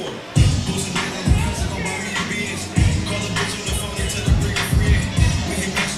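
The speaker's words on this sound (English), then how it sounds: "the crowd is going crazy for it" Crowd cheering and shouting at a stick fighting match at a fight club, rising in surges with loud bursts of noise over a continuous roar of the crowd.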